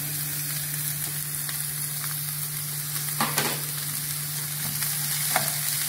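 Squeezed bitter gourd fries in a pan with a steady close sizzle, broken by a few spatula scrapes and knocks, with no voices.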